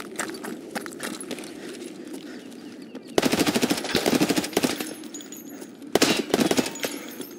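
Automatic gunfire in the video game Escape from Tarkov, with rapid loud bursts at about three seconds and six seconds over a background of footsteps and ambient noise, and no talking.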